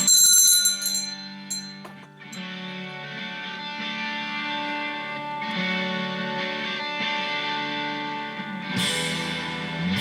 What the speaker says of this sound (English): Let's ring the bell before I forget.